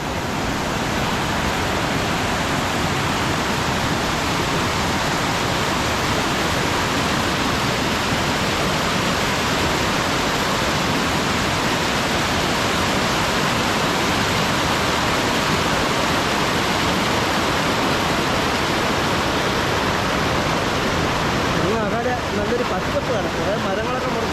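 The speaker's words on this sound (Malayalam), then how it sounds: "ഇതാണ് വെള്ളച്ചാട്ടം" A roaring waterfall at Vattathilaru in Kerala pours with a dense, continuous broadband rush that stays loud and steady throughout, with no break in the water noise.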